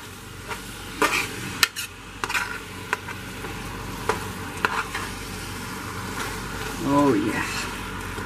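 Hamburger meat and onions sizzle and fry in a pan for homemade chili, with repeated scraping stirs and clinks of a utensil against the pan over a steady sizzle, close up; brief talk can be heard.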